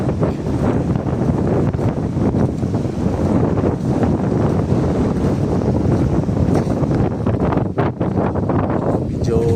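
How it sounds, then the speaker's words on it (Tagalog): Strong wind buffets the microphone in loud, rumbling gusts, with what may be water and a boat in the background throughout. "Mahangin."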